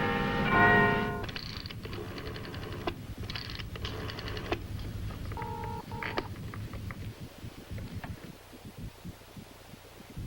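Telephone dialing tones ring out in a steady run of beeps, part of a call placed to a number while a Paris connection is being arranged, heard fairly close with no talk over them.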